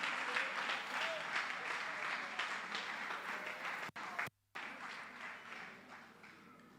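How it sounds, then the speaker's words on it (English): Audience applause fills the hall at a teachers' association annual conference awards ceremony, a broad, sustained patter of many hands at moderate distance, briefly cut by a dropout before resuming. "I believe another round of applause is required."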